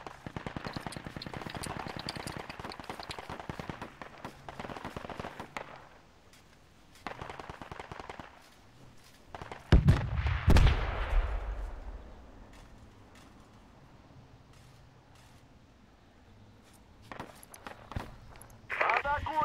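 Machine-gun fire cracks around a player in the Project Reality tactical shooter, with rapid bursts early on, a loud close blast midway, then scattered shots and footsteps, while a player talks over it at times.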